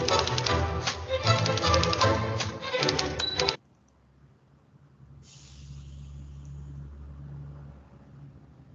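Rapid, dense clattering of typewriter keys runs for about three and a half seconds, then cuts off abruptly, leaving a quiet low hum.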